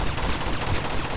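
Gunfire from a shootout in the video game Uncharted 2: Among Thieves, a dense continuous barrage of rapid shots and bursts sustained at steady loudness throughout.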